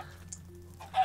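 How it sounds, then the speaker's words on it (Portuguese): A Minecraft chicken gives a couple of brief, close clucks over a low background hum. "Galinha horrorosa."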